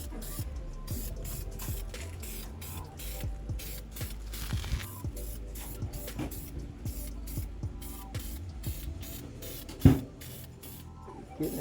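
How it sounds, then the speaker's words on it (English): A can of charcoal gray fabric paint sprays onto a car interior in a continuous, close hiss with rapid rhythmic pulses and some light clatter underneath, and one sharp knock near the end. "So we're going to pull out our can of charcoal gray, get this all baked up, and we'll lay some paint."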